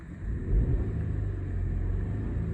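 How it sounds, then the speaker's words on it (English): A 1.2-litre turbocharged three-cylinder petrol engine in a 2020 Citroen C3 Aircross is revved, giving a steady low rumble that swells briefly early on, then holds an even, smooth drone, close and alone. "It's got that familiar sort of 3-cylinder sound to it, but it is very smooth indeed."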